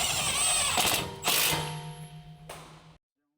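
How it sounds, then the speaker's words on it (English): Electric impact wrench with a large 14mm deep socket tightening a sway bar end link retaining nut on a 2019 Mazda 3 sedan coilover install, heard as two loud rattling bursts followed by a fading mechanical ring, then silence. "Use the large 14mm deep socket with the large electric impact wrench"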